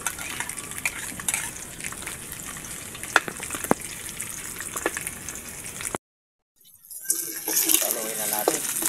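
Garlic, onion and ginger sautéing in a pan, a steady soft sizzle with occasional stirring clinks, moderately close, then a brief silence before the frying resumes.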